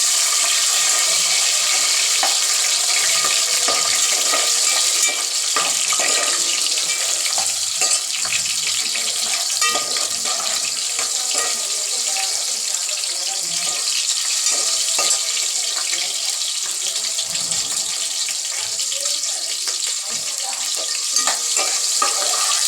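Tomatoes fry in a pan of village-style mutton curry, a steady, dense sizzle that holds loud and constant throughout with faint stirring scrapes beneath.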